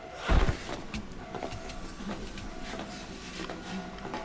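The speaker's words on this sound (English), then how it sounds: "What kind of noise does this gate make?" A gate opening in the video game Metal Gear Solid V: Ground Zeroes: one low thud, then a quiet, steady mechanical whir that stays soft and subdued.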